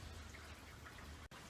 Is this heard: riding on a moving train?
no